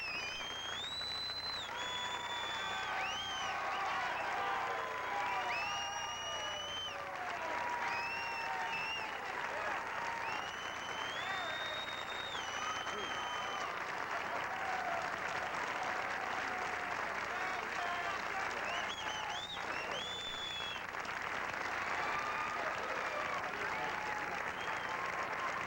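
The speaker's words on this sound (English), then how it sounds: "You sound like a fight crowd." Television studio audience at a Dick Cavett show applauding loudly and continuously, a thick even wash of clapping with a few cheers, steady throughout with faint voices beneath.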